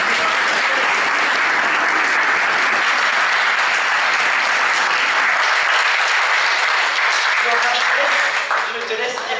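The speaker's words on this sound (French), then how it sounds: "Je vous demande d'applaudir chaleureusement Flora Coquerel, Miss France 2014." Audience at an event in Châtillon-sur-Seine warmly applauding Miss France 2014, a loud, dense, sustained clapping crowd with some voices mixed in, tapering slightly near the end.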